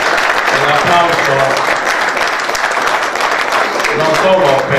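An audience claps at a Sicilian-language poetry book presentation, a dense steady round of applause lasting throughout, with a voice speaking over it.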